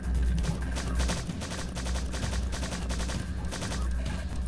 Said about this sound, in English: This is when the gun comes in handy.